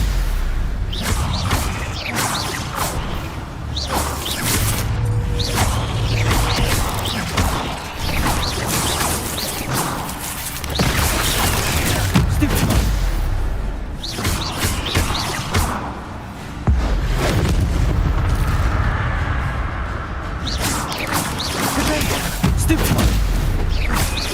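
The Stupefy spell in the video game Hogwarts Legacy bursts out as heavy booming impacts and crashing magical blasts, loud and repeated, with a voice shouting spell names over the combat effects.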